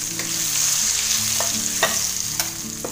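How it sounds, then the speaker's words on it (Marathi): Sesame seeds, spices and raisins sizzle loudly in hot tempering oil, a close, dense frying hiss with a few spoon taps and scrapes, no voices. "हे तीळ वगैरे सगळं टाकते. त्यात सगळं हे सगळ्या शेवटी हे मनुके टाकते."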